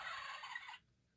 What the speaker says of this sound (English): Mr. Turkey, the sound that turkeys make is called a gobble.